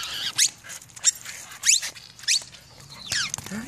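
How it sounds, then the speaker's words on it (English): A squeaky dog toy ball squeaks five times in a loose, irregular rhythm, each squeak short, shrill and close, with a dog faintly moving about between them and no talking. "You like that squeaky ball, huh?"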